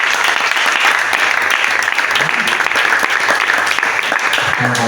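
Loud, sustained applause from an audience at a church youth meeting, dense clapping filling the whole stretch with a few voices mixed in.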